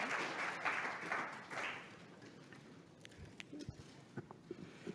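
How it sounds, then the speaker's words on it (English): A round of applause from the audience at a knowledge-sharing event in North Vancouver, fairly faint, fading out within two seconds and leaving a few scattered taps and thumps in a quiet room. "give Charlene a round of applause"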